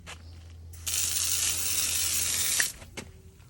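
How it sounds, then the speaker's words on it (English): Hot ground sizzling where water hits it, a steady broadband hiss that rises abruptly, holds for about two seconds near the microphone, then cuts off, over a low hum. "you can hear the ground sizzling."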